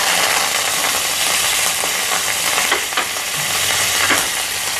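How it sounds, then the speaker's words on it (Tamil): Mustard seeds, urad dal and curry leaves crackle and sizzle in hot oil for a South Indian adai dosa tempering, a steady, loud, dense frying hiss with occasional sharper pops and no voices. "இப்போ கொஞ்சம் கருவேப்பிலை போட்டுருவேன்"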